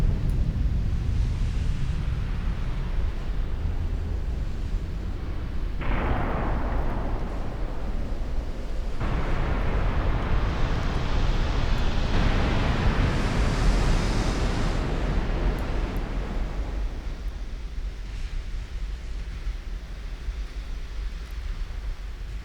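A huge battleship sinks in the naval strategy game Ultimate Admiral Dreadnoughts, in a 1910 German campaign. A loud, steady roar of churning water and wind swells and fades over about twenty seconds, with no talking.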